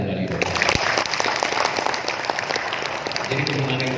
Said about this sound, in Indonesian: Rayakan, tepuk tangan kembali.